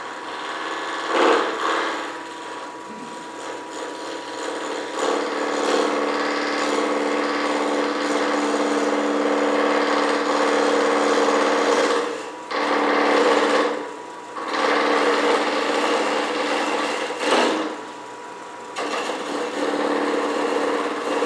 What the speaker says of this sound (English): I'm going to get the point, the tip, rubbing on a piece of wood gently